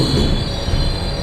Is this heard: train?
yes